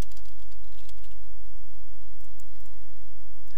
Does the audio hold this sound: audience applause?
no